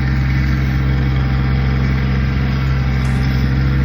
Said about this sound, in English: I love my tractor.